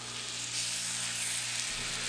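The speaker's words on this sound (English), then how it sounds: "And I just go in, lay my fish down." Fish laid into browned butter in a hot coated ceramic pan, giving a steady, even sizzle and crackle of frying that holds at a constant level, close up, with no voices.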